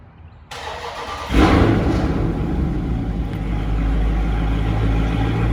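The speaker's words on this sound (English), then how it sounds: "So let's start the car." A Dodge Charger engine cranks and fires in a small deck area, surging up with a brief rev before settling into a steady, throaty idle that continues close by.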